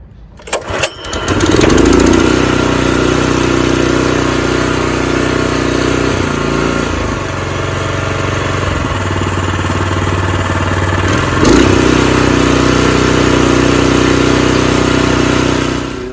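Petrol engine of a Weibang WB 384 RB scarifier pulled into life after a few sputters, then running loud and steady close by, its pitch dipping and rising as the load changes, with no talk over it.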